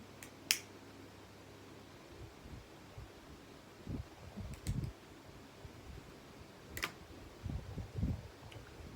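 A lighter being flicked repeatedly and failing to light a cigarette gives a few sharp, isolated clicks against quiet background with faint low thumps.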